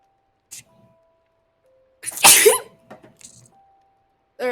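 A single sneeze bursts out loud and close, a quick breathy onset then a sharp release, set among a few quiet sniffs and small mouth noises with long stretches of near silence around it.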